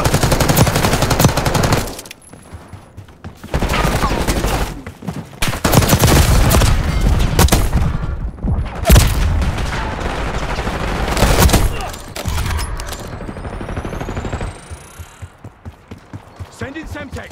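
Loud, dense bursts of automatic gunfire in Call of Duty: Black Ops 6 come in sustained volleys broken by brief quiet gaps, ending with a fading whooshing tail.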